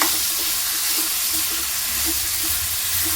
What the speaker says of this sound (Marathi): गवार आणि बटाटा आपण तेलामध्ये परतून घेऊया